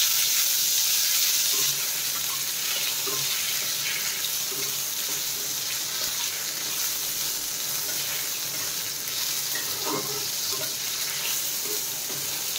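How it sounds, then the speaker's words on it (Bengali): Chopped tomato goes into a hot, sizzling pan. A dense, steady frying hiss fills the whole stretch, with a few faint scrapes and pops beneath it. "আমি কেটে রাখা টমেটোটাও দিয়ে দিচ্ছি।"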